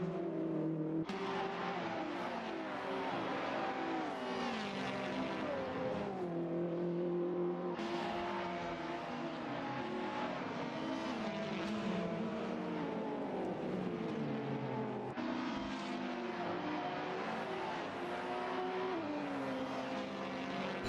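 Onboard a BTCC touring car racing at Road Atlanta, the engine drones loudly and steadily, its pitch climbing through each gear and dropping sharply at the upshifts, with brief lifts and no talk over it.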